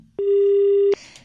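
A single steady electronic phone tone sounds after a dropped call on a bad network connection, holding for about three quarters of a second, loud and close, before a brief higher chirp.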